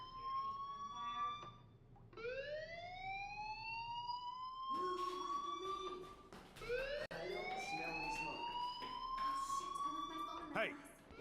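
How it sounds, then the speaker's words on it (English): A rising, wailing siren-like alarm sounds repeatedly in the Life is Strange video game, each sweep climbing in pitch and overlapping the next, steady and prominent for the whole stretch, with people talking beneath it. "Do you hear that fire alarm?"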